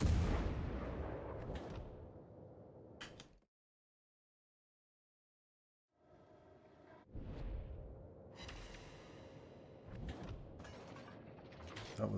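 Heavy naval guns booming in a warship video game, a burst of loud blasts, then a silent gap before another run of cannon fire with rumbling echoes and a few sharp reports near the end; a voice is faintly present.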